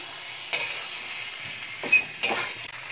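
Salt stirred into spiced potatoes for onion- and garlic-free dum aloo: three short, scraping stirs of a spoon against the pan over a faint sizzle, close and fairly quiet.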